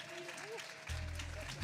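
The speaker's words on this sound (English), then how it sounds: "Can you clap it up?" A church congregation at a Sunday morning worship service breaks into applause, a burst of dense clapping starting partway through after a speaking voice.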